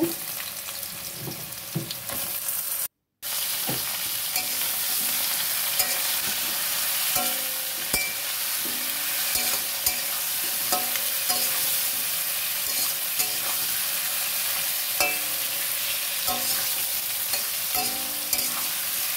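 Potatoes and ridge gourd sizzle loudly in a pan while a spatula clinks and scrapes repeatedly, a busy continuous stir-fry with no talking.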